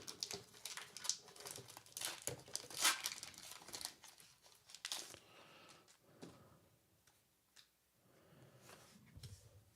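Pokémon card booster packs being ripped open, loud foil tearing and crinkling up close in the first half, tapering into softer rustling and card handling afterward, with no speech.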